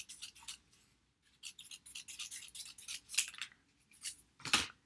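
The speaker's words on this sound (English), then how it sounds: "So I can just cut a thin strip." Scissors cut a thin strip of paper in short snips and rustling slices, close and quiet, with a brief pause before a second run of cutting and a sharper final snip.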